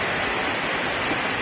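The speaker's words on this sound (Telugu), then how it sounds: "అంత బాగా అంటే బాగా వర్షం వస్తుంది" Heavy rain keeps up a constant broadband wash of noise, loud and unbroken over a very short stretch, with no voices.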